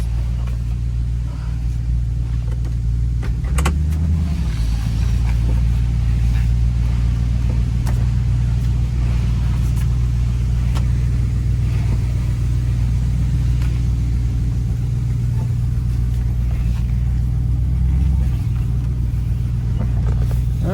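A 350 V8 in a 1971 Oldsmobile Cutlass idles and rumbles steadily with a deep, throaty low tone, swelling briefly in a couple of places, heard close up throughout.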